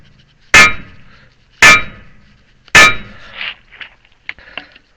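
Three loud, sharp metallic clangs ring out about a second apart as a hammer strikes a stuck hydraulic cylinder pin on a Case 580 backhoe outrigger, followed by a few lighter clinks and taps.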